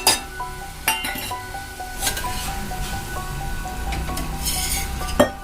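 Finely chopped ginger, chilli and garlic with spices sizzle in hot oil for Maggi noodles, a steady frying hiss with sharp utensil clinks against the pan at intervals.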